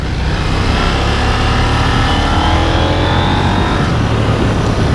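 A KTM 890 Duke R motorcycle riding through a corner on a road, with a continuous loud engine drone mixed with heavy wind rush and no talking.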